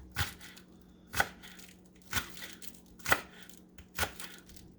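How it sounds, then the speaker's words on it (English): A knife thinly slices scallions, cutting through them at the counter in five evenly spaced crunchy chops about one second apart, close and moderately loud. "Same with the scallion, thinly slice."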